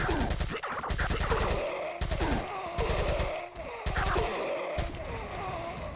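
Rapid gunfire in Resident Evil 4: several quick bursts of automatic shots in clusters, separated by brief pauses, loud and close, with no talking.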